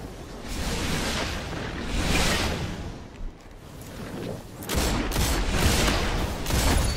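Ace of Spades hand cannon gunfire in the video game Destiny, a few loud shots and booming bursts spaced out over steady background game noise, no talking.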